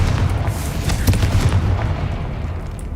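A Confringo spell blast in Hogwarts Legacy lands as a loud, rumbling boom with a dense low roar and crackling debris that holds strong for a few seconds before slowly easing off.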